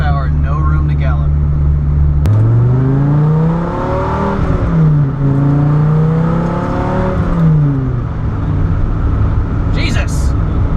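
A Dodge Viper's engine accelerates at low speed, a loud, continuous drone whose pitch climbs, dips and climbs again, heard from inside the car.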